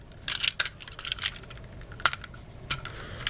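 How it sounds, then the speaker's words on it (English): Plastic clicks and snaps from a Transformers Animated Soundwave toy as its arms are separated and pulled out, a scattered series of sharp close taps and small clacks. "I'm going to separate the arms and pull those out."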